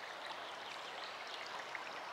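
A stream flows beside a restaurant in the Beskydy mountains, a soft, even rush and trickle of water that stays quiet and steady throughout, with no voices.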